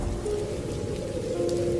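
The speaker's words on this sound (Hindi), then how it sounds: "अमावस की रात थी और साथ ही तेज बारिश।" Heavy rain pours down at night as a dense, steady hiss with a low rumble, filling the whole stretch without a break.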